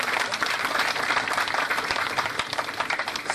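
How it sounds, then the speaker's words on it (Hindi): Audience applause at an event in Delhi, the Bharat Aabhar Parv 2014 programme: steady, dense clapping from a sizeable crowd, close and fairly loud, sustained throughout with no speech over it. "बहुत जोरदार तालियां इस पर बजनी चाहिए।"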